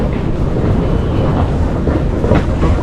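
A Paris RER commuter train rumbles loud and close, with a steady, dense roar of wheels and carriage noise and no voices.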